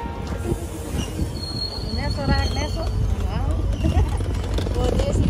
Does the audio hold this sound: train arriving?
yes